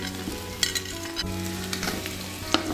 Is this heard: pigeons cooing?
no